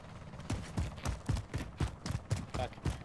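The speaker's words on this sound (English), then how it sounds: "My loud ass footsteps." Loud, rhythmic footsteps of a player character in a tactical shooter video game, about ten heavy thudding steps in three seconds, close and prominent, with a faint mechanical clatter.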